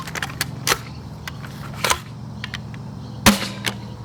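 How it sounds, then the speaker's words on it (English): A Talonclaw T4 airsoft rifle with an 18 kg spring dry-fires in sharp, snappy clacks, three or four distinct cracks spaced over a few seconds with mechanical clicks between them, fairly close and with no talking. "that's a dry fire, so that's all 15 shots done"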